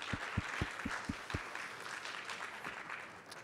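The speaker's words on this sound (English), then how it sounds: "round of applause." Audience applause at a tech conference opening, a steady wash of clapping from a crowd with a few sharp, close claps standing out early on, moderately loud and continuing throughout.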